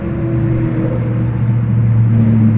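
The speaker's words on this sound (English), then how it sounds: "truck's really loud." A loud truck passes close by during outdoor work on a Subaru's struts, giving a steady, heavy low engine rumble that holds through the whole stretch with no talking.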